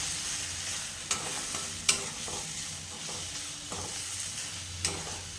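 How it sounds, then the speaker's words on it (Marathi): Drumstick curry in a pan being stirred to blend in the spices, a steady sizzling hiss broken by scattered clinks of a spoon against the pan, with no talking. "आता हे छान मिक्स करून घेऊया आपण सगळे मसाले"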